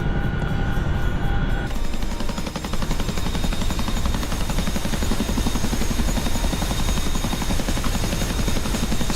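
A Chinook helicopter in a combat video game makes a steady, dense rotor thrum and engine drone that runs close and loud throughout, with no speech.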